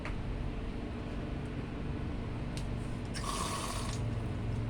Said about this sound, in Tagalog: Lagyan ng konting tubig.